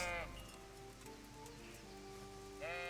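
Sheep bleat in a video game, with a wavering cry at the start and another near the end, set over soft steady background hiss and faint musical tones.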